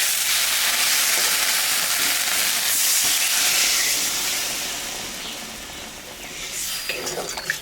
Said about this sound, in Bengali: মশলাটা ভাজা হয়ে গেছে এখন আমি সামান্য একটু জল দিয়ে দেব